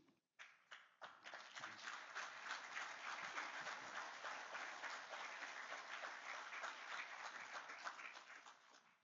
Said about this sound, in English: that applause was for you